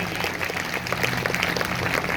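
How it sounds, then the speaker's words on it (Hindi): A church congregation at a Sunday service claps in a dense, steady wash of applause that holds at an even level throughout, with no clear speech over it. "अगर आया तो जोरदार तालियां बजाएंगे।"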